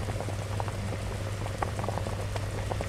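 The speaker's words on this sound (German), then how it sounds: "So, es brutzelt und brötschelt." Food sizzles and bubbles while cooking in the video game My Time at Sandrock, a steady close crackle with scattered pops over a low hum.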